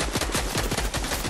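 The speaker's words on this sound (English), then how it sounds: "Boom, shotgun." Rapid burst of gunfire in the video game Fortnite, shots crackling in quick succession and loud in the foreground, with no talk over them.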